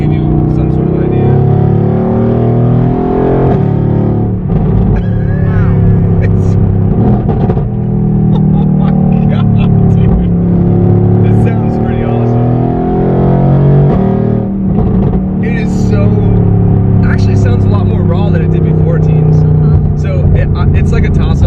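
A modified GTR PRO car with over 700 horsepower drives with a loud, continuous engine rumble that swells and eases as it accelerates, under ongoing talk.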